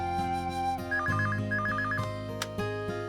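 A telephone rings with a repeating electronic warbling trill, loud and close, in short patterned bursts over a steady tonal background with no talking.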